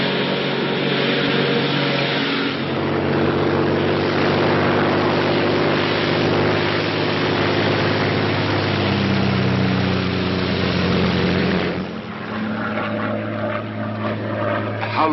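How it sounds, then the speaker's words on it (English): A Royal Air Force propeller plane drones steadily in flight, a loud continuous engine hum close by that holds throughout and shifts tone slightly near the end. "a Royal Air Force plane is waiting for us at a secret landing place"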